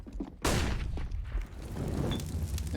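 Gunfire in a CS:GO pro match on the Vertigo map: a sudden sharp burst after a quiet moment, followed by a sustained rattle of shots and game noise.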